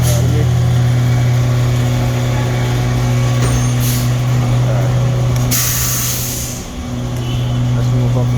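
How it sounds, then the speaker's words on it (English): A bus with air brakes approaching on a street, with a steady low engine drone throughout and sharp hissing bursts of air-brake release near the middle, heard alongside traffic noise and a person talking. "Is there a bus coming?"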